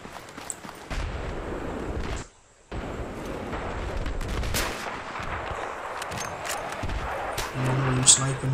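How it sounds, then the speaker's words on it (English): M98B sniper rifle firing in Battlefield 3, several sharp, loud cracks spaced irregularly amid constant battlefield gunfire and explosions, with a brief drop to near silence early on and someone talking over parts of it. "Long range sniping now with the M98B."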